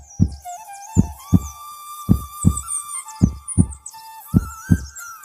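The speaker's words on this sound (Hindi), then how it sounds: "झोपड़ी को देखते ही उसका दिल तेजी से धड़कने लगा।" Fast heartbeat sound effect with ten or so deep, booming thumps in loose pairs over a soft tonal musical bed, loud and close, with no talking.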